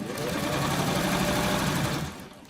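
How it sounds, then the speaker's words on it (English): A sewing machine stitches freeform quilt blocks together with a steady, close whirring hum that runs evenly for about two seconds before winding down and stopping. "when you're sewing these blocks"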